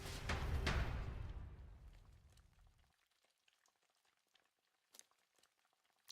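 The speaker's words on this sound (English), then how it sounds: "I hear running water in my right ear, and I would like it to stop" Hissing, rushing water from Metaphor: ReFantazio, a video game. It starts loud and steadily fades out over about three seconds, leaving near-silence broken by a few faint ticks.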